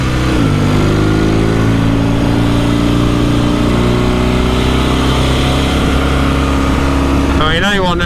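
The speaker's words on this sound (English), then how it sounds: "I'm hoping the mic, even though it's in my helmet, is picking up some of the amazing engine noise." A 1967 Norton Dominator 650 SS motorcycle engine drones loudly and steadily while riding, captured from inside the rider's helmet, with wind rush over the steady note and a change of pitch near the start and again at the end.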